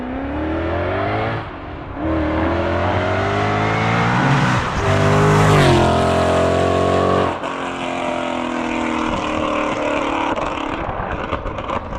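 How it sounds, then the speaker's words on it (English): Supercharged Ford Mustang with a loud exhaust, engine revving up and down close by in several rising and falling pulls, the roar dominating with no talk. "his exhaust is still pretty loud"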